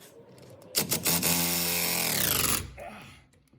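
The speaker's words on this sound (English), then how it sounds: "This guy's not playing with this little rattle gun." Pneumatic rattle gun (impact wrench) working on differential bolts of a BMW E46: a loud, continuous hammering buzz lasting about two seconds, close by, with no talking.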